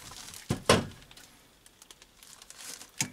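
A plastic bag tube pulled through a small heat sealer, giving a few quick, close crinkling rustles with sharp bursts near the start and end, no talking.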